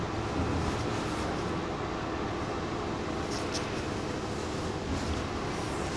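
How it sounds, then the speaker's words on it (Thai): Steady low rumble of a subway train riding along rails, continuous and enveloping from inside the carriage, with a brief higher squeal midway. "นั่งรถไฟไต่ดินเนี่ยจ้ะพี่น้อง"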